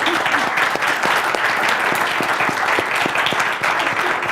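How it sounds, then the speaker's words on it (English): Steady audience applause closing a panel forum on security challenges in Latin America, a dense, even wash of many hands clapping at close-to-mid distance throughout, with no talking over it. "go ahead, give a round of applause"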